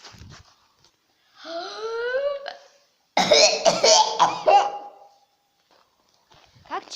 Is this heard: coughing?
yes